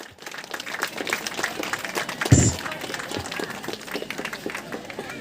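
Loud, sustained applause from an audience marking the inauguration of a Maha Chandika Homa religious ceremony, a dense crackle of clapping with one sharp, heavier burst midway.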